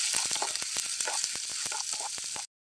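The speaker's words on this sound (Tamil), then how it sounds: "இது எல்லாத்தையும் நல்லா வதக்கிக்கலாம்." Chopped onions and green chillies sauté in hot oil in a pan for village-style aval upma, a loud continuous sizzle broken by repeated sharp scraping stirs, which then cuts off abruptly.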